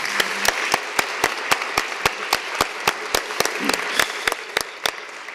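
Applause at the welcome of an education conference, heard as a regular series of sharp, distinct claps in a steady rhythm, close and fairly loud with a softer crowd wash beneath.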